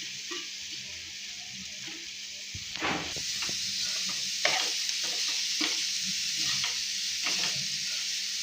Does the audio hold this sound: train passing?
no